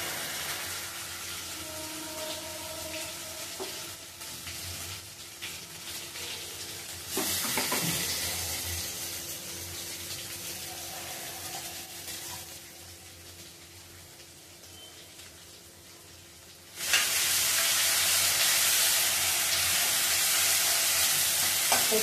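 A ground masala paste of roasted coconut and ginger fries on low heat in a pan for Bhogi bhaji, giving a steady close sizzle with scraping stirs, a louder frying surge near the middle and a strong hiss at the end.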